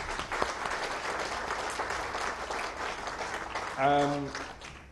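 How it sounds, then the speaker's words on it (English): Steady applause from a large audience at a diplomatic corps reception in Islamabad fills the room throughout, with a voice briefly rising over the clapping near the end. "And a round of applause for all of them."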